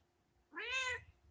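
A single drawn-out cat meow, close and fairly loud, rising then falling over about half a second against a quiet background.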